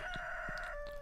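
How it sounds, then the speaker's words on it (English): Cartoonish chicken clucking and crowing from the farming game Stardew Valley, a short bright rooster call sustained over a steady tone with a few soft clucks, clear and alone with no talking. "Is that just a random chicken noise?"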